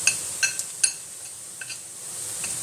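Onions browning in a pan for pav bhaji make a soft sizzle, broken by a few sharp clinks of a utensil stirring against the pan, with no talking.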